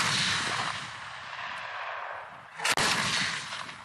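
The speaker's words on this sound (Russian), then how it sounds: "Здесь проходят масштабные бригадные тактические учения со стрельбой." Live-fire brigade tactical exercises by a mountain assault brigade with artillery units: a continuous roar of distant gunfire and artillery rumbling throughout, with one sharp, loud blast near the end.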